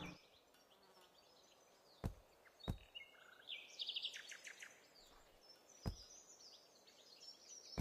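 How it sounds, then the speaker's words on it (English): Ambient bird calls from the video game Colony Survival: faint high chirps and tweets scattered across a quiet background, with a brief run of rapid twittering in the middle and a few sharp clicks. "Did we always have bird noises?"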